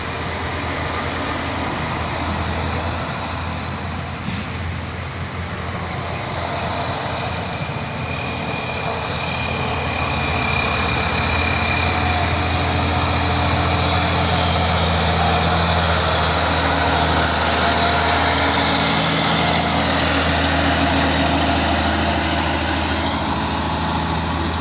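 A Mitsubishi Fuso intercooler truck hauling a heavy load labours with a loud, sustained engine drone and deep low rumble. The pitch shifts slowly as it pulls, with no voices over it.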